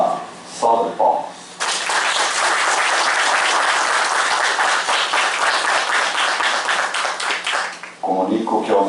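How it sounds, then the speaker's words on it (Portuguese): A full round of applause from an audience at a municipal council session honouring a first sergeant, sustained dense clapping for several seconds, bracketed by a voice over a PA before and after. "Vamos saudá-los com uma salva de palmas."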